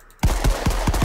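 Gunshots in a shooting video game: after a brief quiet moment, rapid, loud automatic fire starts abruptly, about five punchy bursts per second with deep thumping lows, sustained to the end.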